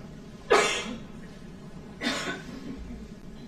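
Two separate coughs ring out in a courtroom, the first sharp and close, the second a little softer about a second and a half later, over a quiet room hum.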